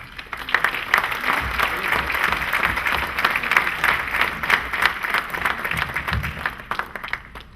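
Clapping from an audience at an Urdu writers' society annual award night, with many hands beating in a dense, moderately loud, steady round that swells a little and holds for several seconds.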